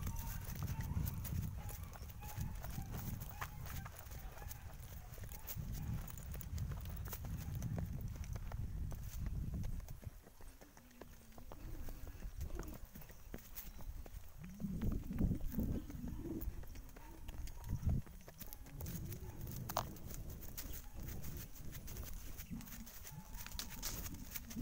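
A horse walking along a road toward its owner's home, hooves clip-clopping in a steady nearby rhythm with a brief pause midway, while people talk intermittently over it.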